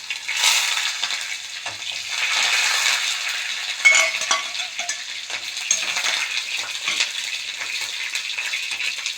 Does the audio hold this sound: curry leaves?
yes